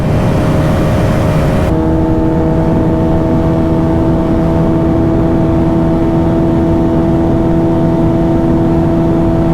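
Bajaj Pulsar 220F and RS200 motorcycles accelerating hard, a loud continuous engine drone with steady pitch that shifts slightly down after a gear change, close and filling the whole stretch, no talking.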